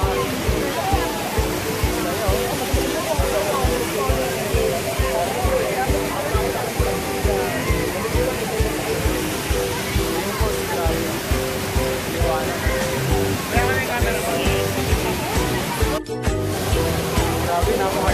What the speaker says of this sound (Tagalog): Grabe, napakaganda ng falls.